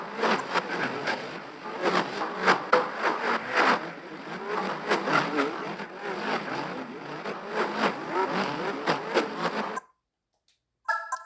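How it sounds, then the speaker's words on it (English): A race car engine in Gran Turismo 4 revs hard and continuously with rapid gear-change pulses and a rasping buzz. It stays loud and constant for about ten seconds, then cuts off abruptly into near silence with a brief burst at the end. "Turns out B-Spec Bob is not capable of winning that race in that car."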